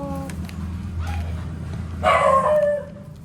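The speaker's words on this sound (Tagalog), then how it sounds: "Yan, mga aso ni Kiray." Dogs bark and yip in a short, loud burst, with a steady background hum and no talking.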